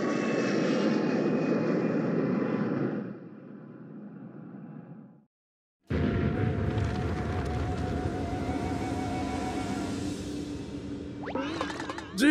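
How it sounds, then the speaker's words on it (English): In Paper Mario: Color Splash, a missile roars loudly through the air, then fades and cuts to brief silence before a broad, sustained rumble rolls in from its landing in faraway hills. "Some kind of missile just landed in those faraway hills."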